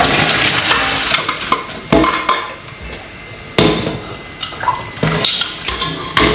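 Boiled fish-bun filling mixture is tipped into a strainer in a kitchen, with sharp clattering knocks of utensils and metal and water splashing and draining away, close and busy.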